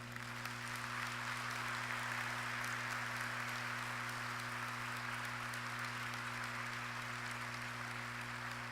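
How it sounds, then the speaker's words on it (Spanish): A steady wash of applause from a church congregation honoring the Virgin Mary, sustained and even for the whole stretch, with a low electrical hum beneath and no voices. "Así que vamos a dar un fuerte aplauso a la Virgen María."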